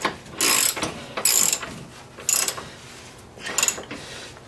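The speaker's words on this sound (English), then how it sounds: "go ahead and tighten the front bolt completely" A hand ratchet tightening the front control arm bolt on a Honda Civic 1.7, four close bursts of rapid clicking separated by short pauses.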